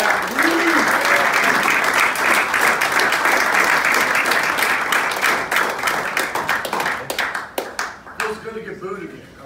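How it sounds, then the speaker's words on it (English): A crowd at a Nebraska Big Red Blitz event in South Sioux claps loudly to welcome football coach Barrett Ruud, a dense sustained round of applause that tapers off near the end, with some voices mixed in. "let's give a big round of welcome to Coach Barrett"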